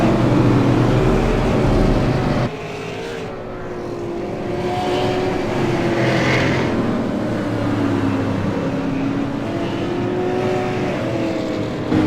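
Race car engine in an eSports racing game accelerating off pit road at Southern National Motorsports Park, a loud sustained engine drone with rising and falling revs after an abrupt drop in level.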